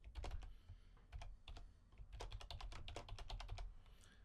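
Typing on a computer keyboard, quiet close clusters of rapid key clicks in several bursts with brief pauses between them.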